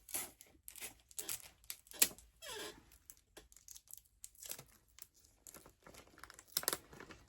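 Tape being pulled and pressed onto the bottom of a towel envelope gift basket, heard as a string of crinkly tearing and rustling bursts, close and fairly quiet, with no talking.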